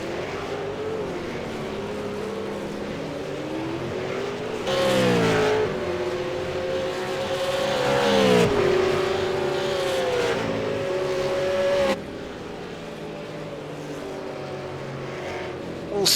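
V8 Supercars race cars lapping Suzuka circuit, engine note climbing and falling through gear changes as a car is pushed hard, a steady mid-distance roar that swells and dips without pause.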